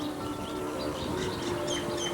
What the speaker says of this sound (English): Sounds like an aviary out here